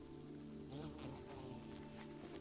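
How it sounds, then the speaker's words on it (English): A buzzing bee sound effect from the World of Warcraft Dragonflight video game, a faint insect-like drone laid over steady tonal game music, with no talking. "Oh, I don't like the bee sound effect."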